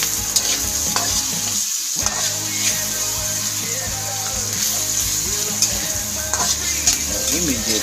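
Ground pork sizzling and frying in a pan for a Filipino giniling with misua and patola, with steady loud crackle and repeated scraping stirs throughout.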